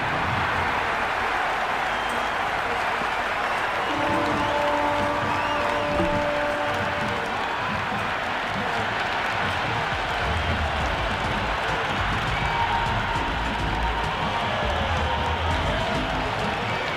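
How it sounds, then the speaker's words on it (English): A crowd roars and cheers without a break in a packed cricket stadium in the game Cricket 26, for a Karachi Kings vs Peshawar Zalmi PSL 11 match. The sound is dense and loud the whole time, with scattered clapping and faint calls inside the din. "It's evident and ever so audible that the crowd is at near bursting point at today's play."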